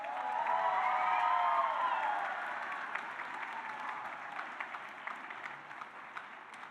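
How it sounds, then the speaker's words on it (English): Audience at a community college spring commencement ceremony bursts into loud, sustained applause for the graduates, with scattered cheers and whoops, the clapping swelling early and then easing to a steadier, softer patter. "So please start by giving them a huge round of applause."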